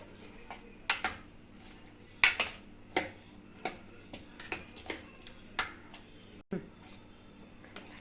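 A spoon scrapes and clinks against a bowl while custard fruit salad with mango and pomegranate is mixed, giving about a dozen soft, uneven taps and squishy stirs close by over quiet room tone.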